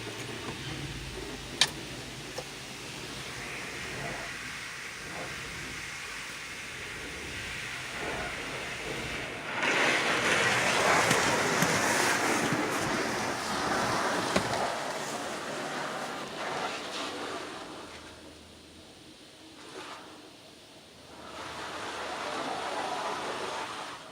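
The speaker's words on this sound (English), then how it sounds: "let the wash begin" A PDQ LaserWash 360 automatic car wash at a BP gas station in Motley, Minnesota sprays pre-soak, giving a broad hissing wash that swells midway, fades, then rises again, with machinery clicks throughout.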